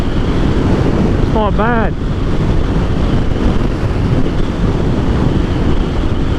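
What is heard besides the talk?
wind noise riding 2020 Aprilia Dorsoduro 900 motorcycle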